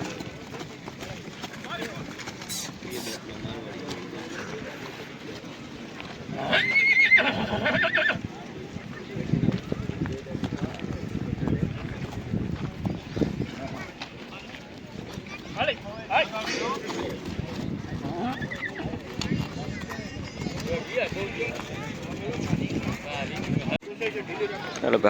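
Horses at a horse show, with Marwari mares mentioned, heard as neighing and hoof clip-clop amid a busy outdoor crowd, fairly distant and mixed under steady talk and background noise throughout.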